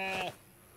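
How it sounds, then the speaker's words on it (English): A single short bleat from a goat in the video game Contraband Police, loud and close, lasting under half a second before fading into quiet background. "Look at good Billy Goats."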